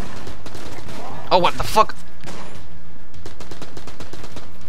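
Bursts of gunfire from the twin-stick dungeon-crawler shooter Enter the Gungeon, a dense cluster of rapid shots near the middle over steady game music, with a player's startled voice talking over it.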